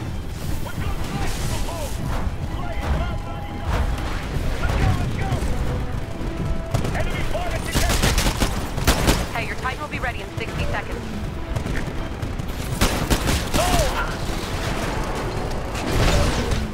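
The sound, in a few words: explosions and gunfire in the video game Titanfall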